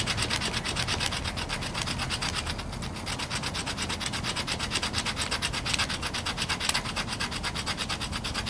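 The square 90-degree spine of a knife blade scrapes redwood bark into fine sawdust and tinder for a primitive bow drill fire kit. It makes a steady, close, continuous rasping and rubbing sound with no talking.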